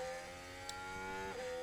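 F1 car engine from the F1 Manager 2023 racing game held at full throttle, a steady high-pitched whining tone with stacked harmonics droning on evenly and loud, briefly dipping in pitch near the end.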